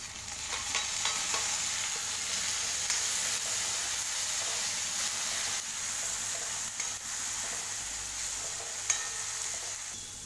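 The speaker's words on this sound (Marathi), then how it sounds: "आता टमाटर टाकते।" Tomatoes fry with onions in hot oil, a steady close sizzle running throughout with occasional stirring scrapes and small pops.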